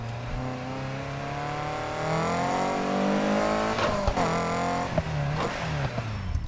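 A car engine revs and accelerates in the racing video game Need for Speed Heat on PS4, a loud rising engine drone building steadily with gear changes, then sharp bursts and clunks near the end.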